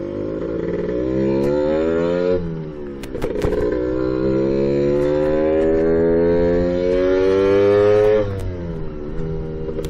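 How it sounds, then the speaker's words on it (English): A two-stroke Lambretta scooter fitted with a Clubman Sport exhaust rides along, its buzzy engine loud and near, pitch rising and dropping through gear changes with a brief lull around the middle. "Clubman Sport exhaust, that keeps some of those two-stroke characteristics"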